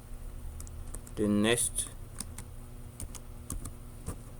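Quick light clicks of typing on a computer keyboard, a sparse run of soft keystrokes around a brief spoken phrase.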